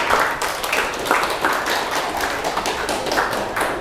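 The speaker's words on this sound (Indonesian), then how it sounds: "Beri tepuk tangan untuk kelompok 2." A classroom of students claps for a student group that has just presented, producing steady, dense applause with crisp, irregular hand claps for nearly four seconds at close range.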